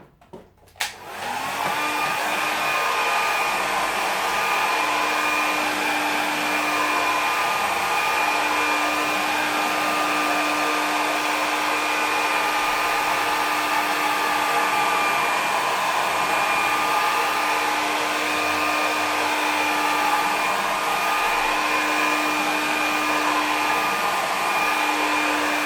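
A hair dryer runs steadily for the whole stretch, drying a watercolour coastline painting clipped flat to a board; it starts with a click and then holds a loud, constant whirring hum with a high whine and no talk.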